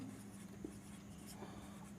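Pen scratching steadily across paper while working a Class 9 maths problem on cylinders, a soft continuous writing sound, close and quiet, with no voice over it.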